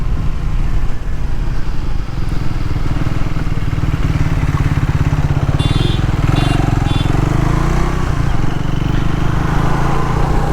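A Triumph Tracker 400 motorcycle engine drones steadily while riding, with a loud, continuous low rumble and wind noise the whole way through.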